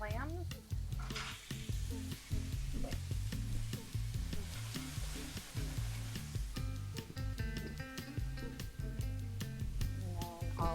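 Manila clams and tomato sizzle in olive oil with crisping bread in a pan, a steady loud frying hiss under a rhythmic music bed throughout.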